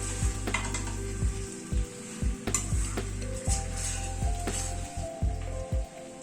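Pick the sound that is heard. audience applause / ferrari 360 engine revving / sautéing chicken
sautéing chicken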